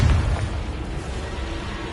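Confringo blasting spell detonating in Hogwarts Legacy, a single loud low boom at the start that fades into a rumbling, noisy tail.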